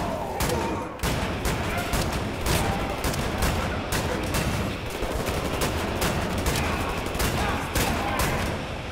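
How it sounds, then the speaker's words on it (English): An automatic shotgun firing rapidly in Wolfenstein: The New Order, dense repeated blasts with booming impacts and battle noise, continuous and loud for the whole stretch. "I got an automatic shotgun."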